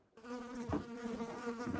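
A housefly buzzes steadily and close indoors, a continuous droning hum that swells briefly partway through, with no talking over it.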